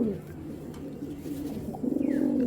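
Pigeons coo close by, soft throaty calls that swell into a rapid pulsing coo toward the end, with faint background murmur.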